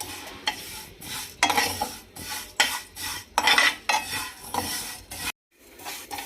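Vermicelli fried golden brown in a pan for semiya payasam, stirred in quick rhythmic metal scrapes, about a dozen close strokes over a faint sizzle, before falling abruptly quiet near the end.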